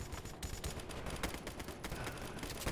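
Rapid gunfire crackles in the Roblox game Survival Stories, dense overlapping shots like a machine-gun fusillade, loud and continuous from start to end.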